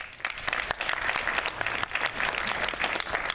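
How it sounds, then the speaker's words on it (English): A graduation ceremony audience for the class of 2017 claps loudly and continuously, a dense, close wash of many hands. "Y'all clapping like y'all like me."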